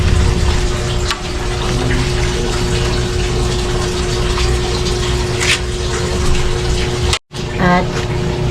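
Tap water runs steadily into a container for boiling in a home kitchen, a continuous gushing flow close by with a brief cut near the end, no talk over it.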